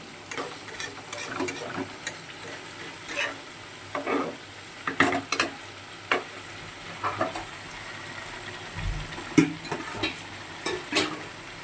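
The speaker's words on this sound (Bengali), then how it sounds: "কিছু সময় রান্না হবে, তারপর নেড়ে ছেড়ে দেবো আবার।" Potatoes frying in a pan, a low steady sizzle broken by repeated scraping and clacking stirs at an irregular rhythm, close and fairly loud, with no talking.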